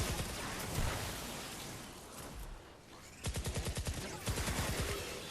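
Ratatat pistol firing in the Fortnite Save the World game, Twine Peaks: rapid bursts of close, loud shots in quick rhythmic series, with other gunfire and game noise around them.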